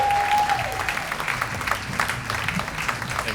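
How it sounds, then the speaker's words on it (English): Comedy show audience giving a round of applause for the next comedian, steady dense clapping throughout, moderately loud and fairly close, with a brief tone at the start. "Let's have a nice round of applause for your next comedian, Mr. Brad Allen."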